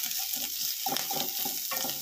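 Onions fry in a pan for a green tomato and brinjal curry, a close steady sizzle with rhythmic stirring scrapes and bubbling pops throughout.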